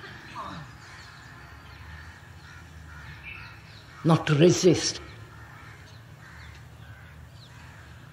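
Crows cawing in a short burst of several harsh calls at an outdoor public talk in Madras, loud against a steady background hum with a faint voice.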